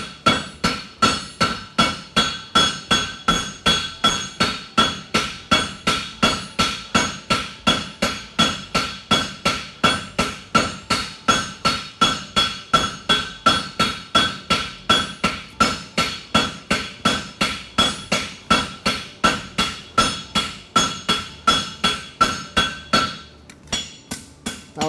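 A hammer tooling a fullered hunter hind horseshoe with caulk and wedge heels at a forge rings out in fast, steady, evenly spaced metallic strikes, loud and close, for about 23 seconds before stopping.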